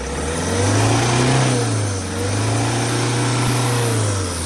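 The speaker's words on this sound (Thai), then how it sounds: "ลองเบิ้ลเนี่ย เบิ้ลดูยังไง" A Tata truck engine that is hard to start and will not rev up properly is revved in two long, steady swells, loud and close, with no talking over it.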